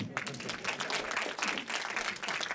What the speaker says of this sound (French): On peut applaudir ma mère, s'il vous plaît